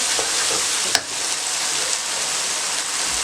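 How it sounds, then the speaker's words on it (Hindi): Potatoes frying in masala gravy for aloo matar shorba, with a dense, even sizzle and crackle close up, plus a single spoon tap early on. "मैंने आलू को भूनना है"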